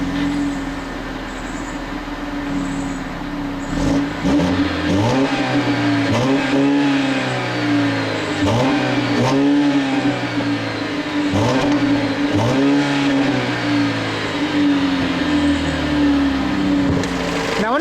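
A 2015 Chrysler 200 with the 2.4-liter double-overhead-cam MultiAir four-cylinder and variable valve timing revs up repeatedly from a steady idle, each close, loud blip rising sharply in pitch and falling back in a rhythmic series.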